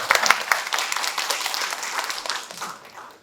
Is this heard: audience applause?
yes